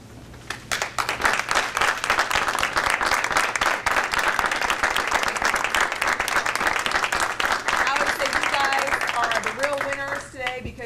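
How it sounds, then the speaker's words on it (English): Sustained applause from an audience at a Do the Right Thing award ceremony, honoring winners' families: dense crisp clapping throughout, with a voice beginning to speak faintly near the end. "some people in the room who deserve a round of applause"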